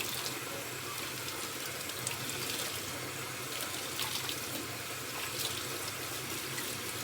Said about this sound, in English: You rinse the black beans with cold water.